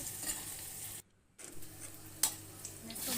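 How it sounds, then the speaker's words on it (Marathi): Onion sautéing in a pan sizzles steadily up close, with a brief silence in the middle and a few sharp scrapes and clinks of stirring afterwards. "आपला कांदा छान असा भाजत आलेला आहे सॉफ्ट झालेला आहे"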